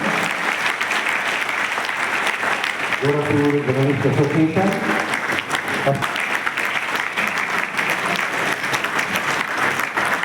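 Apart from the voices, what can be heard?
applause at a journalists' association ceremony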